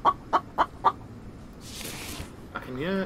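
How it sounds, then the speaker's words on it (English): A chicken in The Infected survival game clucks four times in an even sequence, close and clear, followed by a rustle and a short burst of speech-like sound. "I can hear a chicken."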